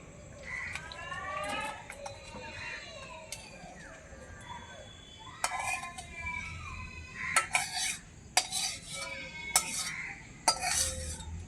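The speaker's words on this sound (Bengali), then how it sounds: "অন্য পাত্রে ঢেলে নিচ্ছি" Cooked kochu (taro) curry is scraped from one pot into another after the gas is turned off: a metal spoon clinks and scrapes against the pot in irregular bursts, with quiet gaps between.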